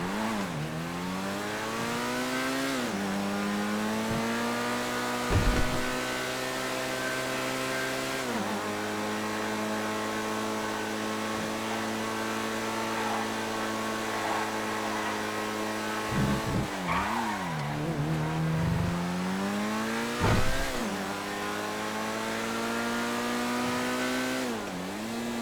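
An Italy GTB car engine in a video game holds a loud steady high-revving drone, with pitch dipping and climbing again at gear changes and a brief squeal of tires partway through, alone without talk.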